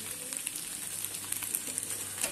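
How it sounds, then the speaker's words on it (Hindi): Small paneer cubes fry in hot oil, giving a steady, close sizzle with soft crackles and pops and no talking. "तो इसके लिए मैं ये पनीर को छोटे छोटे क्यूब्स में फ्राई कर रही हूँ।"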